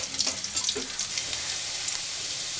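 Chopped garlic cloves, about two tablespoons, sizzle steadily in hot oil in a wok with a loud, close hiss and occasional stirring clinks.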